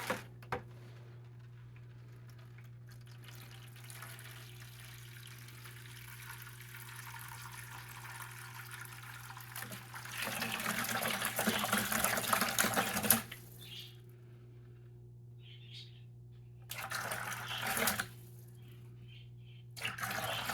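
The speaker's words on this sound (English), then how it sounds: "in this one I always do a full 5-gallon water change" Water is drained from a planted aquarium during a full 5-gallon change: a low steady hum under faint trickling, then louder rushing water in several bursts, separated by quieter gaps.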